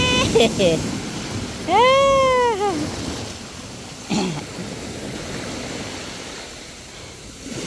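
Big ocean waves on a natural beach at Mataró outside Barcelona make a steady, rushing surf noise, while a person talks and exclaims over it in a high, drawn-out voice.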